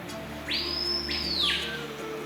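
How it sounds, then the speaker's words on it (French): A paipayo, an emblematic bird of the Amazon rainforest, gives a single loud, drawn-out whistling call that rises sharply, holds, then slides down, clear and close over a quiet forest background. "l'appel des païpayos, oiseaux emblématiques de la forêt amazonienne"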